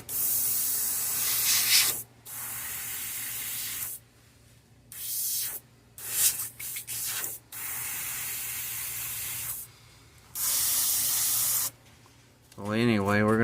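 An airbrush sprays pearl white paint over black on a bass-pattern fishing lure in short hissing bursts of a second or two, separated by quiet gaps and brief rustling.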